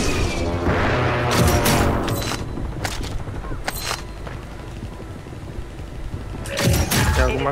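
Bursts of video game gunfire and booms crackle across the clip, with loud volleys at the start and again near the end, and a voice speaks briefly amid the shooting.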